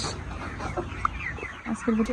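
Chickens clucking at a poultry farm, a few short nearby clucks and soft calls over background murmur and faint voices.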